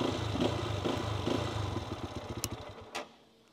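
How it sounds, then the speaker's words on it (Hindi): The exhaust of a 2025 Lifan KPT 200 touring motorcycle rumbles at a low, throbbing idle close by, then pulses in uneven chugs that fade away. "अब एग्जॉस्ट की बात करें तो इसका साउंड नोट इतना मज़े का है"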